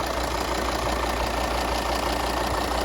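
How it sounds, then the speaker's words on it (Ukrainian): A Volvo XC D4 diesel engine idles evenly and continuously, a constant low rumble with a broad hum and no talking. "Мотор працює рівно."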